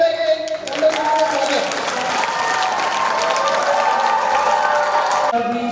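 Audience at a Gurukul class event organised by a Sahu youth association applauds steadily for several seconds, with a voice speaking over the crowd.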